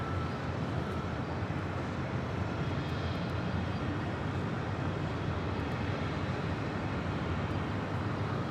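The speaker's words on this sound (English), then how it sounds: "This is United Express Flight 5897 coming in from San Luis Obispo on a CRJ 700 ER." United Express CRJ 700 ER regional jet coming in to land, a faint, steady distant jet engine rumble with a soft even hiss and no clear peaks, no talking.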